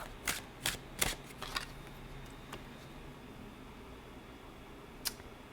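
Divine Nature Oracle cards being shuffled by hand, a quick burst of several soft riffling flicks followed by a few isolated taps, quiet and close with no talking.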